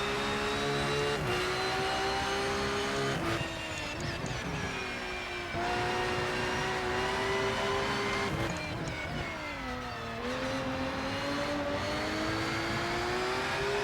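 A race car engine roars continuously in the RennSport racing sim, its pitch climbing through the gears and dropping on shifts and braking, loud and steady throughout.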